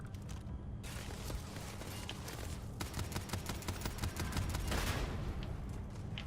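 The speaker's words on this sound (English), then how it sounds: "Grenade." A grenade blast and bursts of gunfire in Starfield, with rapid shots crackling at moderate distance and building into a denser, louder volley toward the end, with no talk.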